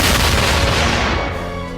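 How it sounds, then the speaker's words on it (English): A heavy explosion sound effect, a loud deep boom that fills the whole moment and then rumbles and fades over under two seconds. "the jacket was obliterated from existence by an explosion"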